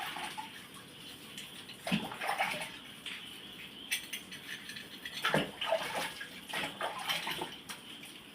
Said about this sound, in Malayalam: ഇതിൻ്റെ അടപ്പ് ആദ്യം തന്നെ വെള്ളത്തിലൊന്ന് കഴുകി നോക്കാം